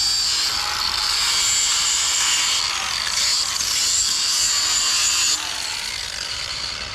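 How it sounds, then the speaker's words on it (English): An angle grinder works steadily on a wrought iron fence, a continuous bright grinding whine for about seven seconds that eases slightly near the end. "I got to grind this a little bit because. So right now he's grinding."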